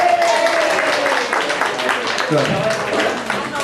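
Audience at a hypnotist stage show claps for volunteers heading to the stage, with steady applause under someone talking and calling out.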